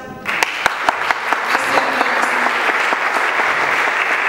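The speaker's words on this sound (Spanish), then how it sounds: "Vamos a darle un aplauso." A church congregation at a faith seminar bursts into loud, steady applause after a brief opening, with dense, sustained clapping from a large crowd and a few sharper individual claps standing out.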